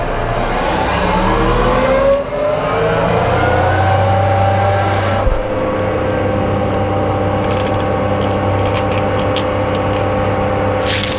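A tractor engine revs up in gear F2 with the PTO engaged during a second hay cut. It runs as a loud, steady drone with a strong low hum, and the pitch shifts about two and five seconds in.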